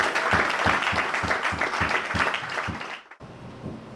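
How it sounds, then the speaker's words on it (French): Congregation at a wedding blessing breaks into loud, rhythmic group clapping, steady beats for about three seconds before it abruptly drops off to a murmuring room. "Acclamez pour vous-même parce que vous êtes bien."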